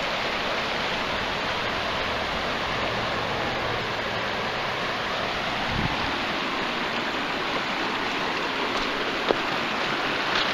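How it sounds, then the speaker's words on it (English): A river rushes over huge boulders near Tamworth, New Hampshire, as a dense, steady roar of flowing water that stays loud and close throughout, with no talk. "And the river flowing."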